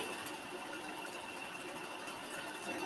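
An electric mixer whisks egg whites for a Kiev cake, a steady, faint motorized whir with a high whine that runs evenly and unbroken.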